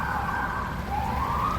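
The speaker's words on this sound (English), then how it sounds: "as the sirens continue to run with the prisoners in the bus" Emergency vehicle sirens wail steadily, a loud, continuous rising and falling tone that sounds fairly close and fills the whole moment with no speech over it.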